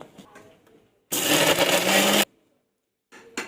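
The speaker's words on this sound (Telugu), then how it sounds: "దీన్ని అయితే మిక్సీ పట్టుకుందాం" A mixer grinder whirs through tamarind, salt and green chillies for cucumber chutney, one loud harsh burst of about a second, with quieter kitchen handling sounds before and after.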